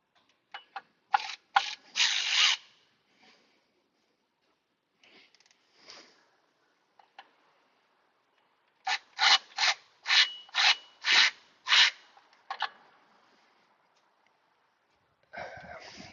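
An 8 mm socket turns a hose clamp during a car water pump replacement, giving short bursts of rasping, ratcheting clicks close by, with a long rhythmic run in the middle and quiet gaps between.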